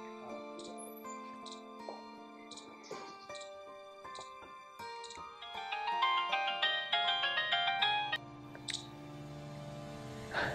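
A phone ringtone plays a bright electronic melody, building to a busier, louder passage before stopping, with no talking.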